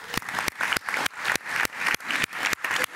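Applause at a school board meeting, heard as a crowd clapping in uneven surging bursts, fairly close and steady for a few seconds with no voices over it.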